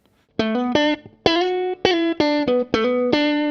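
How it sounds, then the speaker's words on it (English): An electric guitar lead tone with added reverb, recorded through an Audient Sono guitar interface, plays a short run of sustained, harmonically rich notes with distinct attacks and ringing tails, close and loud, with no voices. "So I've got a bit more reverb on my lead tone"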